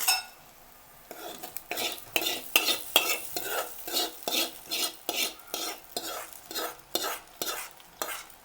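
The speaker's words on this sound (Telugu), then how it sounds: "కరివేపాకు వేసి ఈ పోపుని ఆ చట్నీలో వేసుకుందాం." A spoon scrapes and stirs in a pan in steady, rhythmic strokes as a curry-leaf tempering is mixed into peanut chutney, with a light sizzle underneath and no voices.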